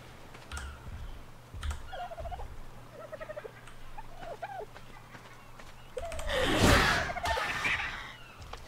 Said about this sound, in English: Ah, dodo bird, dodo bird.